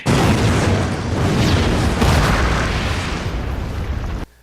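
A loud, sustained explosion from the TV series LOST, a heavy boom that rolls on as a dense roar for several seconds before cutting off abruptly.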